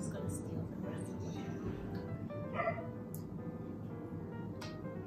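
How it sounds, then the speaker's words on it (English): A pet dog barks and yips in the background of a kitchen snack taste test, with short intermittent barks and whimpers sitting under steady nearby talking. "We're gonna ignore my dog in the background."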